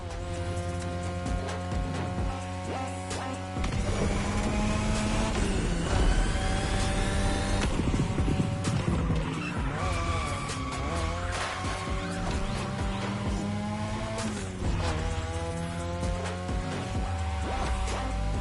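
A 2002 third-generation Mazda RX-7 with a rotary engine races in a video game, its loud, steady engine drone rising and falling through gear changes over continuous music, with brief tire noise.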